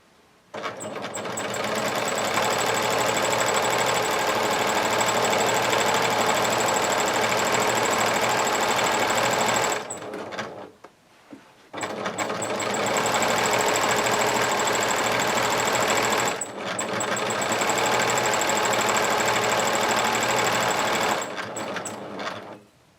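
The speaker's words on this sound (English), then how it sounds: "we've just sewn down both sides with these sides open" A sewing machine stitching down the sides of a large fabric market tote bag, running in three long loud steady whirring bursts separated by brief pauses, close and without talk.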